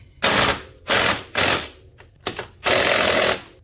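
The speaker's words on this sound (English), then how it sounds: "let's go ahead and tighten them back up" An impact wrench or power tool tightening two bolts on a Can-Am Gen 2 brake job, four loud rattling bursts separated by short pauses, the last one the longest, close with no talk.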